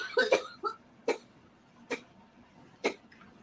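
A woman coughs in several separate short bursts, one cluster near the start and then single coughs spaced about a second apart, close and fairly loud over a quiet background.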